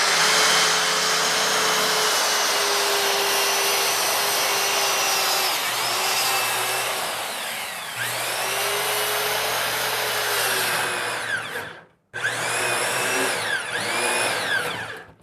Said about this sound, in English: should be good to go for first plywood cut